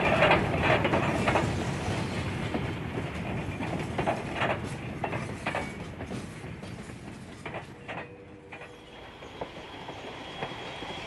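A B&O steam train with a pusher locomotive rolls past on the Sand Patch grade, producing a continuous loud rumble with wheel clatter and squeal. The sound eases slightly and briefly dips near the end.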